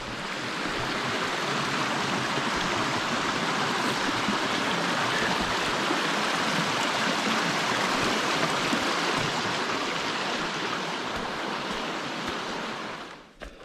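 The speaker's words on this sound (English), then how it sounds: "Beautiful creek crossing." Creek water rushing over big rocks at a trail crossing on the Appalachian Trail between Gooch Gap and Justus Creek, a steady, full, close hiss of flowing water lasting over ten seconds and fading at the end.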